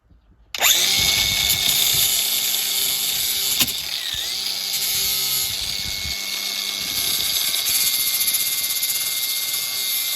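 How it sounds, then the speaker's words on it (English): An angle grinder whines steadily and loudly for nearly ten seconds, starting abruptly, while working on a Ford F-150 King Ranch pickup truck in a garage. "Can't go wrong with an angle grinder and Phil Swift."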